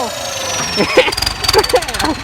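A Ford 6610 turbo tractor engine revs in bursts, its rising and falling drone running close and loud under excited talk from a man nearby.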